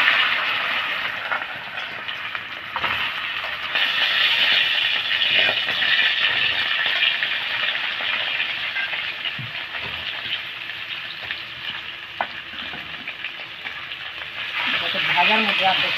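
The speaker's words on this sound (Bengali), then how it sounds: "মাছগুলি ভেজে তুলে নিয়েছি, এবার গাঠি কচুগুলি ভালো করে ভেজে নেব।" Chunks of gathi kochu taro frying in hot oil give off a steady, loud sizzle that runs throughout, with occasional stirring clatter and a voice speaking over it.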